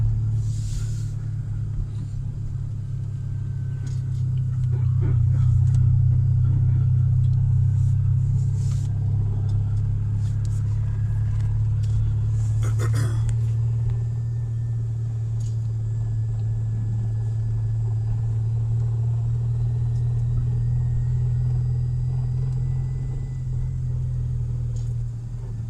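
A car crawls slowly through an employee parking lot behind an automotive body shop in hot Texas weather, its steady low engine rumble continuous and close throughout, with faint clicks and small rattles on top.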